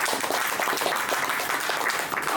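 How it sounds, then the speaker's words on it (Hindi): Loud, dense applause from an audience at a company leaders' meeting, honouring Ram Sharan; continuous close clapping for a couple of seconds with no voices. "हम चाहेंगे राम शरण सर जी के लिए एक बार जोरदार ताली।"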